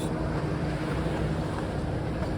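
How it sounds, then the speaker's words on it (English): Road traffic on a residential service road makes a continuous, dense roar of passing vehicles that stays fairly loud and even throughout. "I'm sorry about the noise and traffic."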